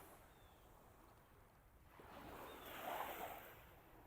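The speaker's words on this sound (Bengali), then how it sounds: "নর্থ আটলান্টিকের সমুদ্রের শব্দ" Surf from North Atlantic ocean waves washing in at Orchard Beach, New York, heard as a steady wash that swells louder in the second half, with light wind noise and no voices.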